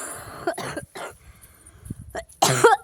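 A woman coughs in a few short, close bursts with a sharper harsh cough at the end, separated by quiet gaps.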